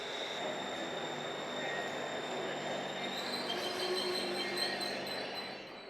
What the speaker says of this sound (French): À Bangkok, il y a 2 lignes de métro.